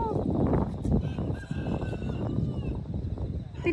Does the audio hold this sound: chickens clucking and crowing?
yes